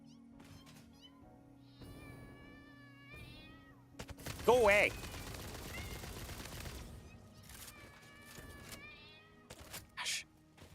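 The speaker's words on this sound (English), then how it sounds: "Evil kitties everywhere." Hostile cat-like creatures in the game Satisfactory let out several sharp, near meows and yowls, mixed with bursts of gunfire, while a player talks over the commotion.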